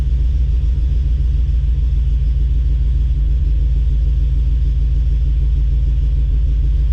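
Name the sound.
LS V8 engine idling in Chevy S10 Xtreme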